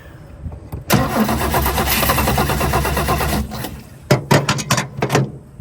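An old vehicle engine, not run in over 20 years, cranks with the choke applied in a loud, rhythmic chugging burst of about three seconds, followed by a pause and a few short clunks and knocks.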